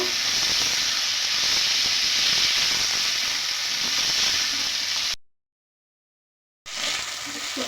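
Chopped potato and onion frying together in a pan give off a loud, continuous hissing sizzle that cuts out briefly into silence and then resumes; no one speaks.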